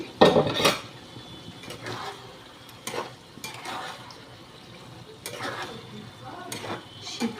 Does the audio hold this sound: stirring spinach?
yes